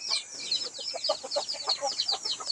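Red junglefowl clucking in a forest, a run of short repeated bird calls close by with no talk, mixed with higher chirps.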